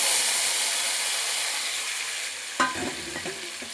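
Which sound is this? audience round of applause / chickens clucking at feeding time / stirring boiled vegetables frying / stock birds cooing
stirring boiled vegetables frying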